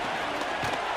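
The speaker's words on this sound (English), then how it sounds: "This crowd into it now as we get to 3rd down." Stadium crowd noise from a Madden NFL 25 football simulation rises on a third down, a steady roar of cheering throughout the short moment.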